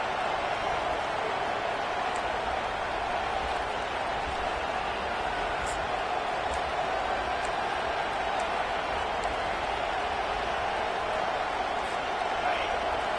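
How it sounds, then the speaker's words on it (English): A dense, steady roar of a large football stadium crowd at Michigan vs Iowa fills the whole stretch, loud and continuous without letting up, urging on the defense. "Listen to this crowd just shaking the girders of this place, trying to help their defense."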